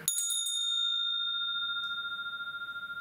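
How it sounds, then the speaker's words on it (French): A small metal bell is struck once and set vibrating, giving a bright, clear ring that hangs as a steady tone and slowly decays with a gentle pulsing wobble in a quiet room. "Nous entendons un son dès qu'on fait vibrer la cloche."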